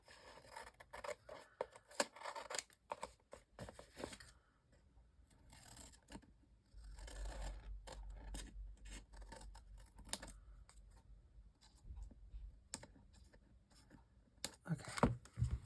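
Scissors snip through material for a crafted satchel, a series of close, quiet, crisp cuts and scratchy rubbing sounds with pauses between, and a low rumble partway through.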